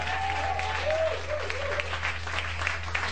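Continuous applause fills a church as the congregation acclaims Emmanuel, with a sung or shouted voice rising briefly over the clapping near the start.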